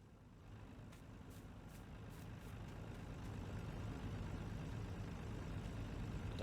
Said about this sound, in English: The truck is slowly pushing all these combines backwards, isn't it?